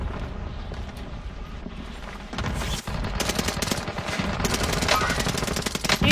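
Dense, sustained automatic gunfire and explosions from Call of Duty: Warzone, loud and continuous with rapid bursts building in intensity, with no talk over it.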